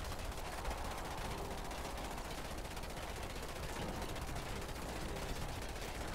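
Rifle infantry in Command and Conquer 3 fire steady rapid automatic bursts, a dense, unbroken crackle of gunfire that holds at an even level the whole time.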